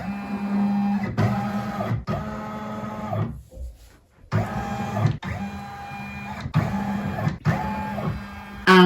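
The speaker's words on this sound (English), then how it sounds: "So this is just going to trace where the outer edges of the design are going to come to." A Brother embroidery machine traces the outline of an in-the-hoop hotpad design, stitching with a loud, steady, rhythmic hum in repeated runs and one short pause near the middle.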